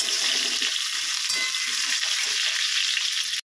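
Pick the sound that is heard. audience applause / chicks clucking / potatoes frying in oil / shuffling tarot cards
potatoes frying in oil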